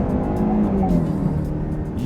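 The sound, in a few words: Jaguar E-Pace SUV accelerating hard onto ramp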